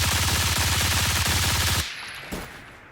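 Mark 17 rifle firing 7.62 rounds in the video game BRM5, a rapid full-auto burst of loud, closely spaced shots that stops abruptly, followed by a brief mechanical clack.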